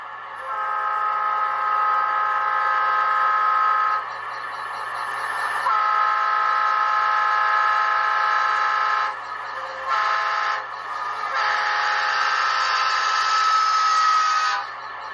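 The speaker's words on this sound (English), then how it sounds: "F12 Doppler horn." A Rapido FP9A model locomotive with ESU LokSound plays a Doppler horn effect: sustained multi-tone horn blasts, loud and close, with brief breaks and shifts in pitch.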